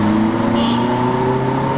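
A small car passes on a street in Jakarta, its steady engine hum and tonal drone close and fairly loud against the city background.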